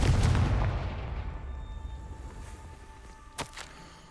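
A Confringo spell explosion in the video game Hogwarts Legacy, a loud booming blast that fades into a long rumbling tail, followed by a brief sharp crackle near the end.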